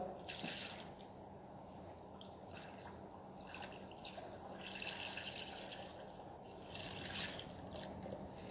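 Water splashed and dripped into the holes of a plaster mold of a Ballan Wrasse fish, a faint, steady wet trickling with a few brighter splashy bursts, close by and without talking.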